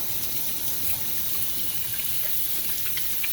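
Tap water runs into a kitchen sink for a quick hand wash while cornmeal fritters are being made, a steady close rush of water with no speech.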